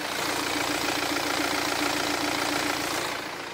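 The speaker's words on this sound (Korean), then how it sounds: "엔진 소음 먼저 들려드리면은" First-generation BMW 2 Series Active Tourer with its diesel engine idling, a steady close-up clattering hum that holds even for a few seconds and then eases slightly at the end.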